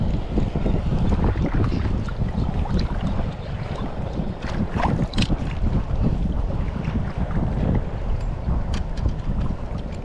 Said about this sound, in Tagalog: Lakas ng hangin. Hindi tayo makabato ng malayo.